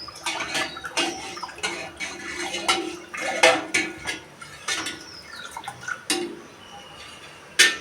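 A metal pot clinks and clatters on the stove while milk is heated, sharp irregular knocks and scrapes up close, with faint watery sounds between them and no talking.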